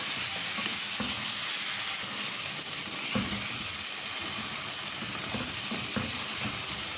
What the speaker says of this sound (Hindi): और अब इसको इतनी देर तक भून लेंगे हम कि इसमें से तेल अलग से नज़र आने लग जाए।